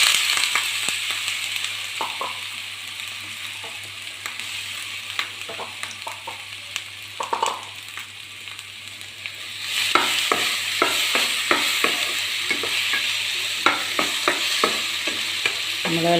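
Two large chopped plantains frying in ghee, a continuous hiss of sizzling fat with frequent spoon scrapes and taps against the pan, growing louder and busier partway through, close up and without voices.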